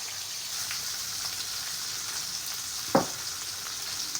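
Onions, green chillies and coriander sautéing in hot oil for a potato curry, a steady close sizzle with a single sharp stir or clatter near the end.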